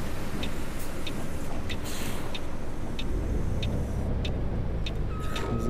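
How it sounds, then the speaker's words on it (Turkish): City bus doors close on a Warsaw bus on a rainy spring day, giving a short pneumatic hiss over the engine's steady rumble, while an indicator ticks rhythmically in the background. "Hemen kapatalım kapılarımızı."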